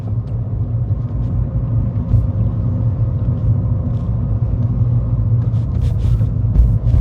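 A car drives straight across a roundabout at steady speed, giving a continuous low road and engine rumble heard from inside the cabin, with faint ticks and clicks near the end.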